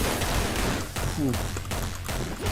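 Gunfire in a Batman video game: a dense burst of shots and broadband game noise with clashing effects, fairly loud throughout, with a voice talking over the action.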